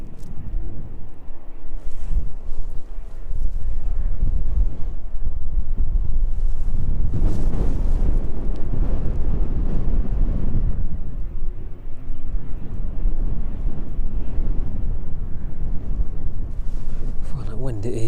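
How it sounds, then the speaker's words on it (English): Strong wind buffets the microphone at East Midlands Airport, a loud continuous roar with gusts swelling mid-clip, beside a parked Boeing 767 with its lower cargo deck open in the evening. "For that wind, it is definitely not giving up yet."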